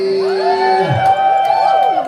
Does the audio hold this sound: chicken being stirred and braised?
no